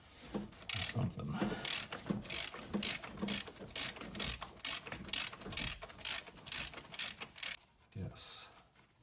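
A ratchet clicks in rapid bursts as it loosens the exhaust manifold nuts on a Dodge Dakota V8 truck. The rhythmic, close-up clicking repeats over and over with brief pauses.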